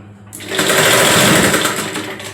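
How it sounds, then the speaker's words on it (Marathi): A sewing machine runs in one steady, loud burst of fast stitching, sewing a cut waistband strip onto a tuck-style blouse at a half-inch seam allowance. "कमरपट्टी लावण्यासाठी आपण ही जी पट्टी कापलेली आहे ती पट्टी अशा प्रकारे इथे धरायची आणि अर्ध्या इंचावरनं शिलाई मारायची"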